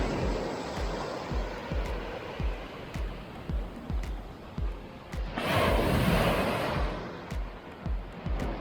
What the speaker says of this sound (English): Down on the beach, and the waves are pretty impressive this morning.